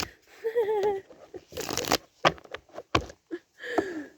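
Tarot cards are shuffled in short bursts of riffling and sliding, interspersed with soft taps, with a voice talking between the bursts.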